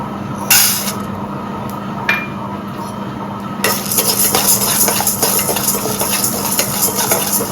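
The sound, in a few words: lentils (chana dal, urad dal) being roasted and stirred in a pan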